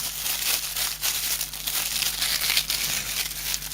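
Plastic packaging around a small battery being torn open by hand: steady close crinkling and ripping with short rustling bursts, faint and continuous, with no one talking.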